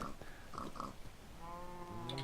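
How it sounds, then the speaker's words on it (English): A pig in Minecraft gives a few short oinks, faint and close together, over a soft game background with a brief tonal chime near the end. "let's rescue the pig"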